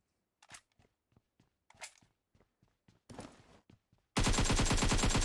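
PUBG Mobile gunfire: a string of sharp, separate single shots at uneven intervals, then a dense, loud burst of rapid automatic fire at the end, no talk.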